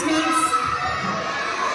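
Young children at a pre-primary school Diwali celebration shout and cheer together in a loud, busy crowd din that holds steady for the whole stretch.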